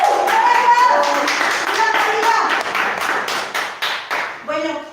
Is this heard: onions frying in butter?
no